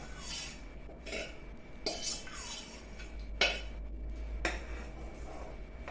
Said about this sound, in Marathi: हे पूर्ण असं जरा ढवळत राहायचं नाही तर ते गुठळ्या होतात